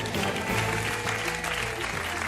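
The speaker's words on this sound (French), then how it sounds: "Morgan, tout de suite, sous vos applaudissements." Studio audience applause on a French television game show, a dense, steady wash of clapping lasting the whole moment with a low tonal backing beneath it.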